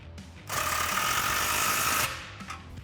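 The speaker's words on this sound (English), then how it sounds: "we can take a 15mm socket to tighten down our clamp" A power tool drives a 15mm socket to tighten an exhaust clamp on a 2016-2023 Camaro SS cat-back exhaust, giving a loud, buzzing mechanical burst of about a second and a half, close up, with no talk.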